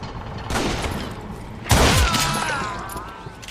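Rifle gunfire in the Western shooter Call of Juarez: Gunslinger, two loud reports about a second apart, the second heavier with a booming low thud and a ringing tail, over game ambience.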